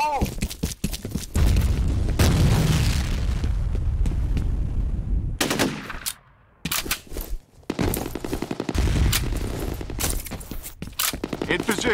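A grenade blast and heavy automatic gunfire in FEAR Combat form loud, sustained bursts of rapid shots with a brief lull midway, then more firing, while voices shout over the action.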